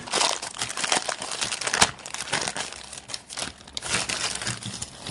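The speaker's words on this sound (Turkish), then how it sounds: "Şöyle yine kesiyorum, kesiyorum, kesiyorum." Crinkly plastic packaging from a Temu parcel being cut and pulled open, a dense, close run of crackling and rustling with sharp crunches throughout and no talk over it.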